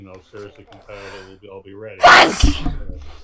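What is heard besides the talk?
a person sneezing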